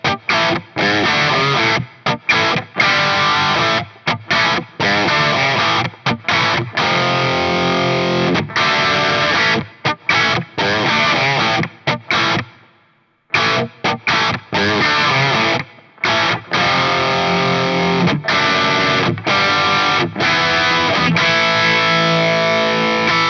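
Electric guitar played through a Line 6 HX Stomp dual-amp preset, heavily distorted with effects, climbing in gain from rhythm to lead; loud, continuous chugging riffs with short stops and one brief pause midway, no talking.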